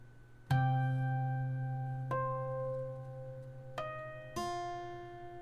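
Guitar played slowly fingerstyle with pinch harmonics, four separate plucked notes and chords, each ringing and decaying before the next, close and clear with no voices, the opening measure of a theme.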